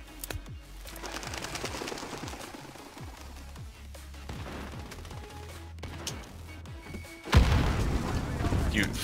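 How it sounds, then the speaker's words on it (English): Stun grenades burst in a video game amid rapid gunfire, with repeated thudding booms and a loud, sudden blast near the end, all sounding close and dense. "Fuck off with your fucking stun grenades."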